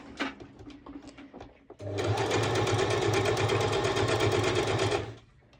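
A sewing machine stitches a stretched lettuce-edge ruffle on fabric, running in one steady close whirring burst of about three seconds after a few brief handling clicks and rustles, then stopping.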